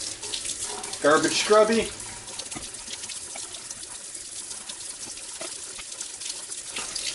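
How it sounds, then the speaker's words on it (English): A tap runs as a Neutrona Wand prop part is rinsed underneath, with a steady close splash of water. It swells briefly while someone speaks a few words. "So now we just rinse it off."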